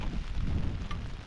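Steady rain and wind at a wild camp on the Ridgeway, a continuous broadband wash of drops and gusts with no voices.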